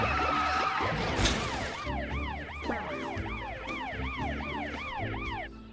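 A wailing emergency siren in a children's cartoon sweeps up and down rapidly and repeatedly, moderately loud over road rumble, with no voices.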